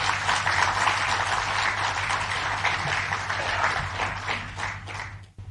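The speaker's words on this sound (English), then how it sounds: "Let's have a round of applause for Dr." An audience at an honorary awards evening breaks into sustained applause, a dense even wash of clapping over a low hum that tapers off at the end.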